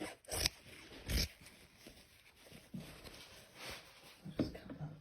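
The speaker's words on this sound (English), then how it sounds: "I'll just cut that bit down there" Scissors cut through denim jeans being made into a gardening apron, with a few loud, close snips and rustling fabric handling in between, all fairly quiet and with no speech.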